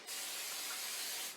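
An aerosol cooking spray hisses steadily onto a sheet pan in one continuous close burst of a little over a second, with no talking.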